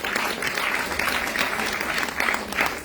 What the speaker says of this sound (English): Please give a round of applause to Meenakshi Akka.